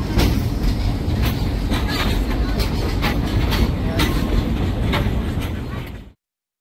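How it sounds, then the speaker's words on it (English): A slow tourist train at the Silver Dollar City theme park in Branson rolls along with a steady rumbling drone and regular clickety-clack of wheels over rail joints, loud and close throughout before cutting off. "We're going to be following you along on this train ride today."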